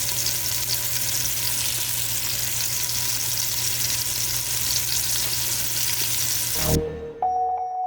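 Sausages frying in a pan for a Cajun pasta give off a loud, steady, close sizzle that holds for several seconds before cutting off abruptly near the end.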